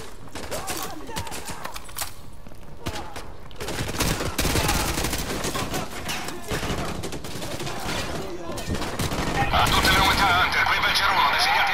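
Dense, rapid bursts of gunfire from Call of Duty: Modern Warfare 2 Campaign Remastered, crackling shots in quick succession that grow louder and more intense toward the end.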